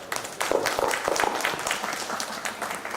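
An audience claps in sustained applause for a speaker at a radio convention press meet, a dense, steady patter of many hands that carries on for the whole stretch.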